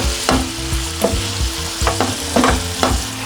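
Shrimp sizzle in a frying pan while being stirred, a steady hiss broken by repeated scraping and clattering strokes of the utensil at a regular rhythm, close and fairly loud.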